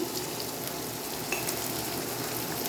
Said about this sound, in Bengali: এদিকে আমার পেঁয়াজটা ভাজা ভাজা হয়ে এসছে।